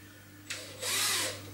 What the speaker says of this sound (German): Und versuche das Metall jetzt hier mal durchzubohren